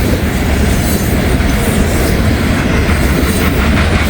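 A grain train rolls past on railroad tracks nearby, a loud continuous rumble with rattling wagons and faint wheel squeal, no voices.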